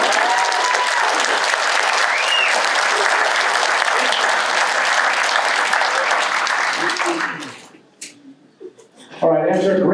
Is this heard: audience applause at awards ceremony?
yes